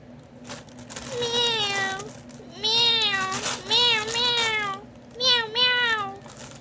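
A cat meows repeatedly at close range, several drawn-out wavering calls in quick succession with brief pauses, over faint room noise.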